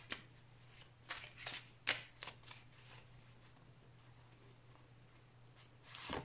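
Tarot cards are handled and drawn for a reading, giving close, soft papery flicks and slides in a brief flurry, then a quiet pause before another rustle, with a low steady hum underneath.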